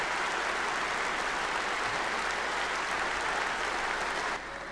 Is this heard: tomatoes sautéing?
no